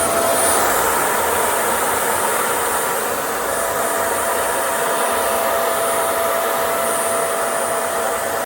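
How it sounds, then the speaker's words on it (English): A RevAir hair dryer straightener running on coily hair gives a loud, steady, close airy roar with a faint whine, unbroken and without talk. "And then the RevAir."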